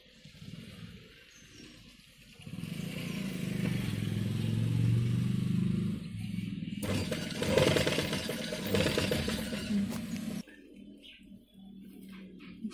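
A sewing machine stitches lace around the neckline of a blouse, running in a steady mechanical whir that gets louder and busier midway through, then stops near the end. No one speaks.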